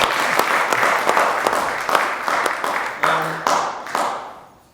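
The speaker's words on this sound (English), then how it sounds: "if we could give her a round of applause as well" Audience applauding a pianist after her performance of Chopin's Fantaisie in F minor, a dense steady patter of many clapping hands that fades away toward the end, with a brief voice near the close.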